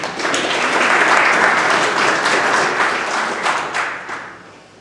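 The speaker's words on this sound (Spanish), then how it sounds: "Lo recibimos con fuertes aplausos." Loud, sustained applause from a crowd welcoming the provincial mayor at a patronal festival book presentation in Coracora, swelling early, holding steady, then tapering off at the end.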